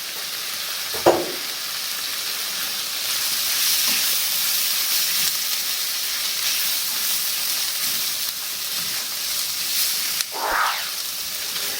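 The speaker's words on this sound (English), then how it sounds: "Alright, straight in with the black beans for the refried." Black beans for refried beans frying in a hot pan, a steady soft sizzle and hiss throughout with a couple of brief louder scrapes or clatters near the start and end, no voices.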